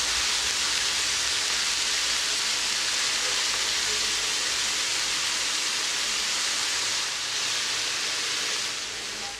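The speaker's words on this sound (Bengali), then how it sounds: "এখন এর মধ্যে সবটুকু মাছ আমি একবারে দিয়ে দিই।" Small river fish frying in hot oil in a pan, a steady, loud broadband sizzle that holds evenly throughout and eases off slightly at the very end.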